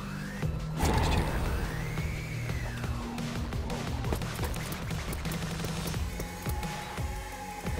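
Pistol shots crack repeatedly through a gunfight in the video game Umbrella Corps. The irregular bursts sit among dense game effects and a sweeping electronic tone.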